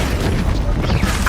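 A loud, booming magical explosion from the Confringo fire spell in the Hogwarts Legacy video game, a short dense burst of rumbling noise.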